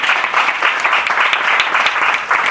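A church congregation at a Hindi-language sermon breaks into steady, dense applause that fills the room, with no talking over it.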